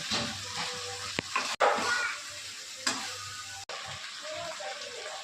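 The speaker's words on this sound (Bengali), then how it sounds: "জল দেবো।" Water splashes into a spice mixture frying in oil, giving a hissing, bubbling sizzle with a couple of sharp bumps and brief cut-offs, close and fairly loud.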